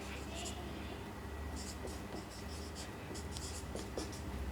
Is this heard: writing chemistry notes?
yes